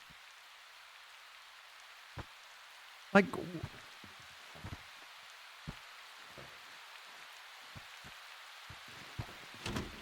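Rain and hail in the survival video game Prologue: Go Wayback, heard from inside a cabin: faint steady rain with scattered sharp thumps and one louder impact, plus a brief spoken word.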